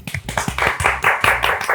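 Audience clapping at a Bollywood interview event, close and fairly loud, with quick uneven claps that build into a brisk burst of applause.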